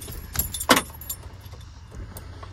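Keys jangle in a couple of brief metallic bursts near the mic, inside a 1999 Ford F250 7.3 diesel Super Duty service truck, with quiet background between shakes.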